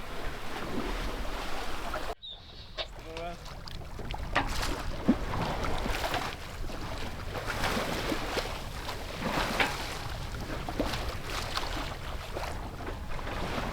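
A sailboat under sail at sea, with steady wind and water rushing against the hull, waves splashing throughout, a brief knock near the start and no voices.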